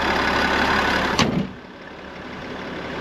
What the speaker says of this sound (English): And so when I close this hood